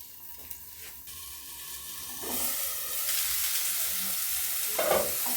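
Cabbage dolma fries in a covered pan with water spitting in the oil, a continuous hiss and sizzle that swells louder partway through, with a brief clatter near the end and no voices.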